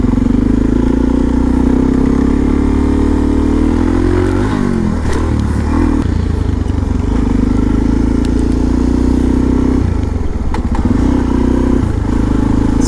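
Suzuki DRZ supermoto motorcycle ridden hard in third gear with the rider standing, its engine droning loud and steady throughout with a shift in pitch midway and rattling clatter from the bike.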